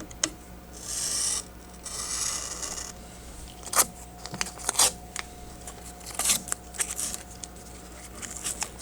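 Tape being cut and rubbed down on a 3D printer bed, with blue and green painter's tape mentioned. Soft rubbing and smoothing passes give way to sharp scissor snips and clicks, close and alone.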